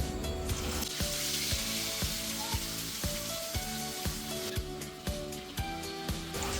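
Pieces of fish frying in hot oil in a pan for a Telugu-style fish fry, giving a steady close sizzle and crackle throughout with a few faint scraping clicks.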